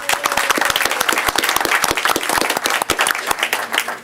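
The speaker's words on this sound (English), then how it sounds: "Let's give her a round of applause, everyone." A room full of people clapping at a school district board meeting, brisk dense applause with sharp individual claps standing out, continuous and fairly close throughout.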